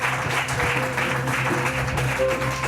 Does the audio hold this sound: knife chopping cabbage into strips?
no